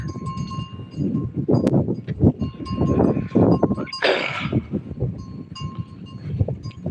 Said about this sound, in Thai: มาเลี้ยงควายละรัดควายรัดคลอย รัดควายเข้าคอก